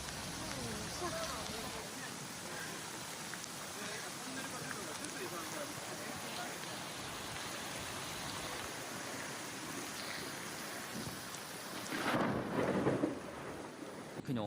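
Heavy rain pours steadily during flooding in Meguro Ward, Tokyo, a dense continuous hiss with a low rumble of thunder. The sound rises briefly near the end.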